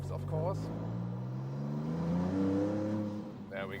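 A Maserati MC Pura sports car engine accelerates steadily with a rising tone on a road scattered with leaves, heard from inside the car with short bits of talk at the start and end.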